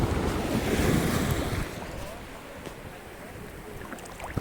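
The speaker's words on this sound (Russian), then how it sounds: "Так, зацените, какое у нас море." Mediterranean sea waves wash into a bay dotted with small islands, a steady broad surf roar with gusting wind buffeting the microphone, loudest at first and then settling to a softer, continuous wash.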